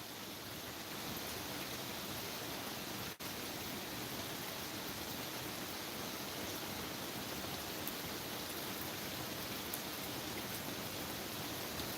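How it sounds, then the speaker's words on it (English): Steady rain falling outdoors, a dense, unbroken hiss that holds an even level for twelve seconds apart from one momentary dropout, with no voices. "Can you hear that rain now?"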